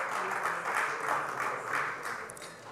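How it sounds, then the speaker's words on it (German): Applause fills a city council chamber after a vote, steady mid-level clapping from many people that swells and fades slightly, heard from a distance. "(Applaus)"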